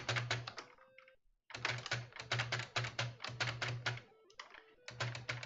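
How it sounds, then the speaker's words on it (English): Clicky computer keyboard typed rapidly during a DOS platformer game session, dense bursts of sharp close keystrokes with one short pause and a brief lull near the end. "You'll probably be hearing a lot of my clicky keyboard in this stream."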